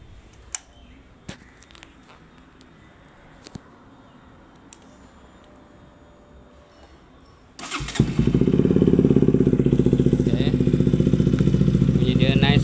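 A Pulsar RS200 motorcycle with a Yoshimura R11 exhaust starts after several quiet seconds with a few clicks, then settles into a loud, steady, deep idle close by.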